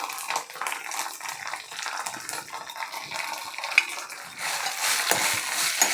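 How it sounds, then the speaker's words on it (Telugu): Cumin, coriander and green chillies fry in hot oil for an egg masala gravy, a dense, close crackling sizzle that runs throughout and swells louder near the end, with no voices over it. "ఇవి మంచిగా ఆయిల్లో చక్కగా ఫ్రై అవ్వాలి"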